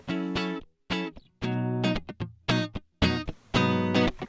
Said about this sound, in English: what you want to add to this is a compressor, maybe a preamp of some kind, and some EQing